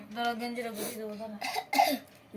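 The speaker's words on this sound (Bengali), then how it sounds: "অল্প অল্প করে কাশছে" A person coughing lightly in a home setting, several short, soft coughs and throat sounds spread over a couple of seconds, close by and fairly quiet.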